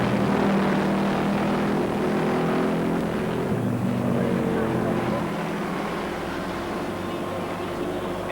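Production racing motorcycles at full throttle during a six-hour race at Amaroo Park, a continuous loud engine roar with shifting droning tones, heard under a commentator's steady talk.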